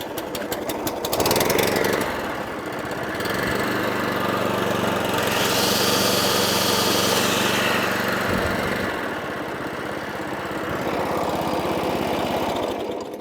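A cold 20-inch Hayter Ranger 53 lawn mower with a Kawasaki engine, started on choke and unable to reach full revs, clatters as it is pulled over, then catches and runs with a loud, steady close-up drone.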